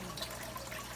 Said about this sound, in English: I let it drip over the top, and it's just diffusing the water